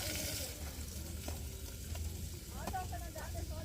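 Onions hit hot oil in a pan at a lakeside campsite, with ginger-garlic paste already cooking, giving a steady close sizzle with light stirring scrapes.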